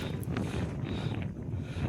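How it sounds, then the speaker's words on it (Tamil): Strong wind gusts blow steadily across a hilltop temple on Nainamalai, a continuous rushing roar against the microphone with brief faint higher sounds and no talk. "காற்றும் ரொம்ப விசுவிசுன்னு அடிக்குது"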